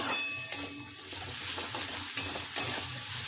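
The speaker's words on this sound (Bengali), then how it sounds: "হাফ চামচ আদা পেস্ট খুব ভালো করে একটু কষিয়ে নেবে এটাকে" Garlic and ginger paste sautés with onions over low flame in a pan, a dense, bright continuous sizzle with a few light stirring clicks, close and without talk.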